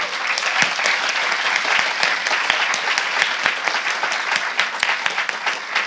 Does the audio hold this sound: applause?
yes